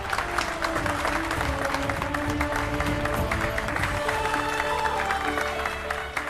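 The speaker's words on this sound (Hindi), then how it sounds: "सब बच्चे ताली बजाएंगे।" A crowd of schoolchildren claps steadily and loudly for several seconds, a dense, continuous applause with some murmuring voices underneath.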